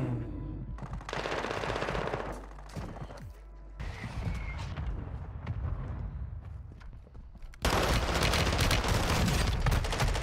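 M4 rifle fire in the video game Modern Warfare 2, loud bursts of rapid automatic shots in several strings separated by short pauses, ending in a long, heavy barrage, with no talk.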